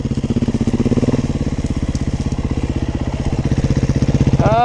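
Close-up engine of a 2021 Beta 430 RR-S dirt bike idling with a fast, even putter, loud and steady, with a brief higher whine near the end.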